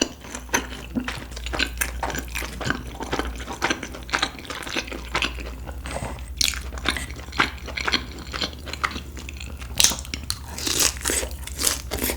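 Crisp bites and steady close-up chewing of fried pork cutlet, with repeated crunchy snaps and wet mastication sounds in an uneven rhythm, loud and alone without talk.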